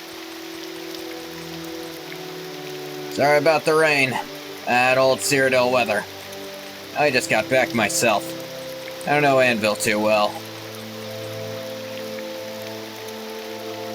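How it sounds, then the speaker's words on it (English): Constant rainfall in the video game Project Cyrodiil, an even broadband hiss filling the whole scene beneath a few short spoken exchanges. "Sorry about the rain. That old CYRODIIL weather."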